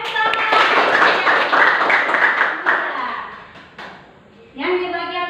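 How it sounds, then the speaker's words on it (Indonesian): Students in a classroom clap in short, uneven bursts for a classmate's answer, with a teacher's voice and children's voices mixed in, and a few tapping sounds before the clapping fades into talk. "Mantap, tepuk tangan."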